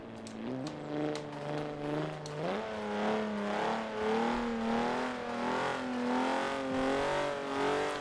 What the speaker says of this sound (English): It has kind of like an old turbo, but actually fairly good turbo response.